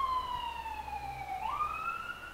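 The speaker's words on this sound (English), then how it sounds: "I'll wait for the siren to go by." An emergency vehicle siren wails steadily outside, its pitch sliding down then back up as it passes by, heard at a moderate distance over low background rumble.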